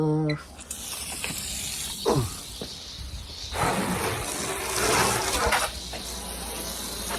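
Water gushes and hisses from an outdoor tap at close range, with brief bursts of splashing and a few faint voices in the background.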